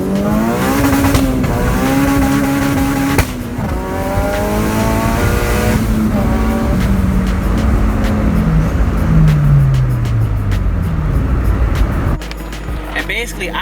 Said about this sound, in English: this car was just literally backfiring like crazy